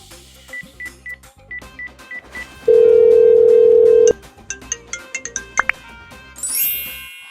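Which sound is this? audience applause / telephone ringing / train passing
telephone ringing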